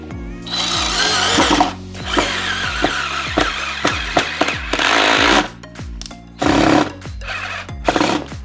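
Harbor Freight DrillMaster cordless drill driving a 2.5 inch screw without a pilot hole, a loud close whirring motor that stalls and restarts in repeated bursts, with short pauses between pushes.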